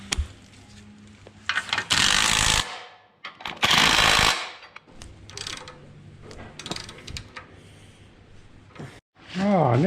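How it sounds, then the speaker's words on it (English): Bolts being tightened on a Toyota FJ build, with bursts of loud ratcheting and power-tool whirring alternating with clanks and mechanical rattles, under and between talk. "Nicholas has tightened up a few bolts."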